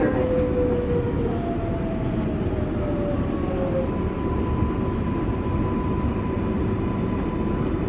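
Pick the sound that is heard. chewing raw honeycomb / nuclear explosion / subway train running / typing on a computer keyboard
subway train running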